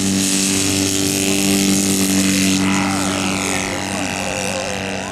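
Steady droning engine of a Space Walker 270 model aircraft, an 11 kg scale plane with a 61 cc four-cylinder motor, running loudly and continuously on a runway at a children's day event, with slight pitch shifts as it idles and revs.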